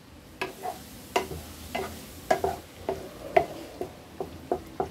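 Arbi sabzi with garam masala and chopped coriander being stirred in a pan off the heat, a steady series of about a dozen distinct spoon clinks and scrapes against the metal, evenly spaced and close.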